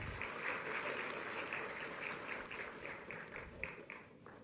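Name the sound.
audience applause at a ceremony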